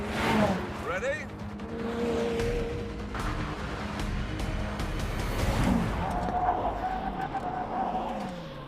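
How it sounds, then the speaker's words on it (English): McLaren Senna and Jaguar F-Type driving side by side at 100 mph, engines roaring with shifting pitch and a rising whine as both cars brake hard, under continuous wind and road noise. "driving alongside a Jaguar F-Type at 100 miles an hour, and when we get to that cone down there, we're both going to brake."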